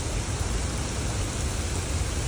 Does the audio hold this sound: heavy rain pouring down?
yes